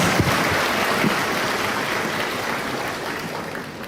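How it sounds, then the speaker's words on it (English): An audience claps steadily at an open dialogue with the Malaysian Prime Minister at a university in Cambodia, a dense, even wash of applause that holds for several seconds. "A round of applause."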